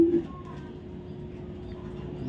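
A red checker racing pigeon gives a low, soft coo, a brief throaty note at the start followed by a steady low hum of ambient noise; quiet and close.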